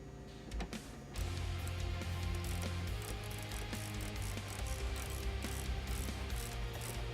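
A hand ratchet loosening the battery ground terminals on a 2018-2020 Jeep Wrangler JL, giving a close, steady run of rapid clicking after a brief pause at the start.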